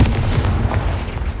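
A Confringo blasting spell detonates in Hogwarts Legacy, a loud booming explosion with a deep rumbling low end that rolls on and slowly fades over a second and a half.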